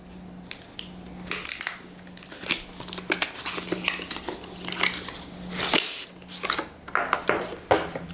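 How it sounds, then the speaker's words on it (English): Cardboard and plastic packaging of a Fitbit Charge 3 fitness tracker being opened up close, with steady crinkling, tearing and rustling plus sharp clicks and taps over a low background hum, no talking. "So let's go ahead, unbox this, and check it out."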